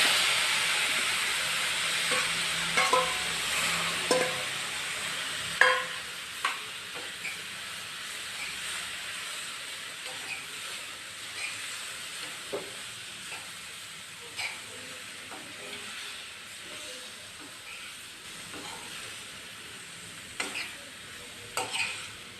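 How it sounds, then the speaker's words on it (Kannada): Boiled bottle gourd pieces stir-fried in a hot pan, giving a soft continuous sizzle and hiss with scattered scrapes and taps of a spatula, close but fairly quiet, with no talking. "ಈಗ ಬೆಂದಿರೋ ಕಾಯಿ ಹಾಕ್ಕೊಳ್ಳೋಣ."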